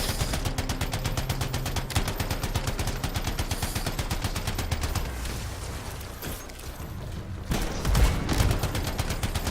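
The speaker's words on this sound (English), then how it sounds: "I'm also going to switch the machine gun" Sustained machine-gun fire in the sci-fi shooter Anthem: rapid, evenly spaced bursts rattle for several seconds, then become denser explosive blasts with mechanical clatter, loud and close throughout.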